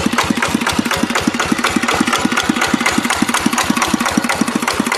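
A diesel engine on an Iron Buffalo two-wheel walking tractor in Thailand idles close by, a steady, rapid chugging with even, regular firing pulses and no voices.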